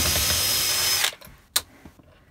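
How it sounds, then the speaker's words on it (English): A cordless power drill whirs loudly during an RV interior upgrade, running steadily for about a second before stopping, followed by a couple of sharp clicks and knocks close by. "Ladies using power tools."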